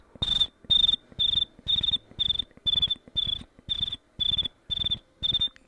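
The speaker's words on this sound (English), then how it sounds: "Oh, what's with my crickets today? They're not working." Crickets chirping in a steady, even rhythm, about a dozen sharp high-pitched bursts separated by short silences, clear and close.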